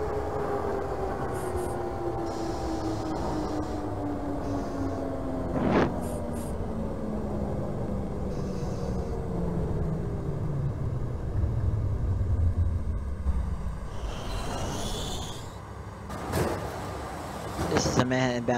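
A New York subway J train in the OpenBVE simulator rumbles along the track with rising and falling motor whine, wheel clatter and a few sharp clicks, while a recorded announcement voice speaks over it.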